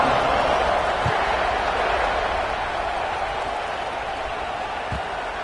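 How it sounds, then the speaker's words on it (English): A stadium crowd at a Colorado versus Arkansas college football game keeps up a steady, dense roar of broad noise, with a couple of faint thumps and no single voice standing out. "this crowd is buzzing after that last score"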